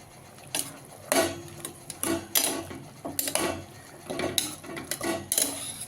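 Mushrooms for a white biryani are stirred in a metal pot, with a spoon clanking and scraping against the sides in a run of irregular, close knocks.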